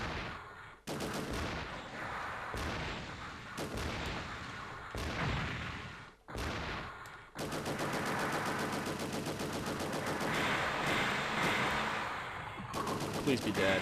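An SRM missile barrage in the Mobile Suit Gundam Side Story II video game: dense, relentless rapid-fire blasts and explosions that cut out briefly, then resume as a continuous loud roar.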